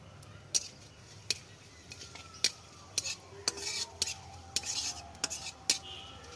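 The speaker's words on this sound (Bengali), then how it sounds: "তেল দিয়ে শুকনো লঙ্কা দিয়ে দিচ্ছি" Dried red chilies frying in oil in a pan, with a spoon scraping and clinking against the metal in sharp, irregular strikes over a faint sizzle, close by.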